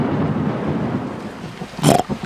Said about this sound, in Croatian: Mama, taj grom bio jako glasan.